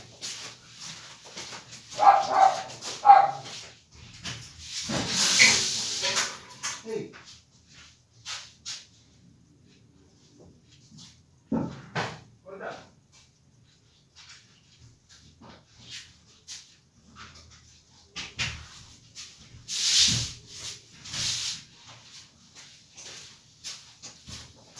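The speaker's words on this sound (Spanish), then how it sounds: "¿Me esperan un minuto que hago callar la perra porque me está volviendo loco?" A female dog barking indoors in scattered bursts of sharp barks and yips, separated by long quiet gaps, loud and fairly close.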